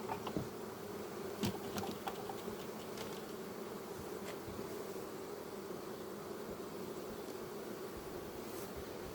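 Honey bees hum steadily around a hive super ready for harvest, a continuous close drone with a few brief sharper knocks early on, no voices.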